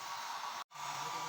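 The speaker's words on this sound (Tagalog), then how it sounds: "Pwede kayong gumamit ng blower para mas madali." A hair dryer blows steadily on drying hair, a loud continuous whooshing roar that cuts out for a split second and then resumes.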